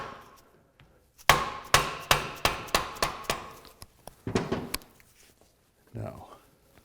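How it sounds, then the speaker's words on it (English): A dead blow mallet strikes a BMW Airhead engine part during teardown, about eight sharp, loud, close thuds in a steady rhythm followed by a few softer knocks, with no talking. "Just got a dead blow mallet."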